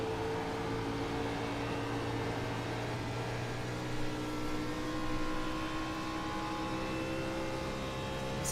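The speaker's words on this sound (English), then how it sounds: "you can hear the lifting going on just to get the car turned in the corner" A race car on an oval at night lifts off the throttle to turn into a corner, its engine drone steady and somewhat distant under broadband track noise.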